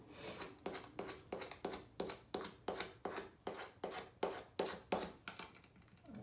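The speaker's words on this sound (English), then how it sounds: "burnish those edges." Rhythmic rubbing strokes of a burnishing tool over vinyl transfer tape on a spice jar, about sixteen quick scrapes in steady succession, close and fairly quiet with no talking.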